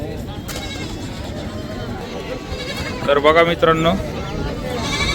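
A goat bleats loudly and clearly for about a second amid a noisy crowd at an outdoor goat market in Kalamb, while someone talks nearby.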